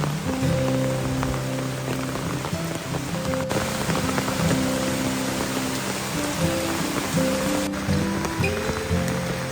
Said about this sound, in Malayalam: ഇന്ന് ഫുള്ള് തോരാത്ത മഴയാണ് കേട്ടോ